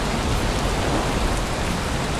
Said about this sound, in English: Dang, we are getting lots of rain.